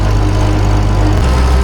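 An old tractor engine at a steam threshers show, running loudly and close with a steady low chugging drone and a slight pitch shift near the end, no talk over it.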